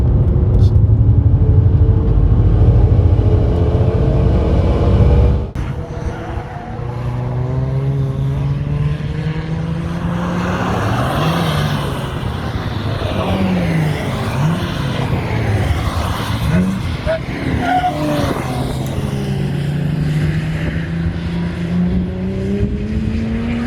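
A Renault Megane RS laps a race track, its engine note rising and falling steadily for the whole stretch with tire noise mixed in, loud and close, no talk.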